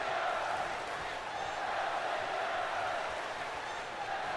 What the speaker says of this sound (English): the crowd chanting, "Let's go Dolph," it seems